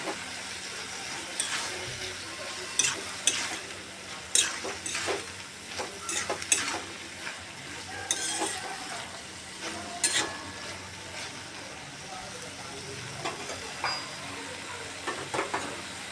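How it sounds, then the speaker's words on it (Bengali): A spatula scrapes repeatedly through onion flower curry with poppy seeds in a sizzling pan, with irregular clinking strokes over a constant low frying hiss. "পোস্ত দিয়ে নাড়াচাড়া করে আর কিছুক্ষণ ঢেকে দেবো"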